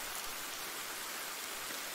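Steady rain falls in a horror novel video game, a soft, even hiss of drops that holds at the same level throughout, with no voices or other sounds over it.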